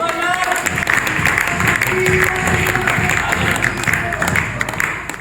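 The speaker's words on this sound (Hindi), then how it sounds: "जो यहाँ लेके आए उनके लिए तालियां बजा दो" Applause breaks out at a network marketing business training meeting, thick crowd clapping mixed with tonal music and general crowd noise, loud and continuous throughout.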